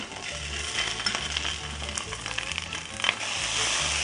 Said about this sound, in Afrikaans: Kom ons braai die Oumas Boerewors lekker bruin.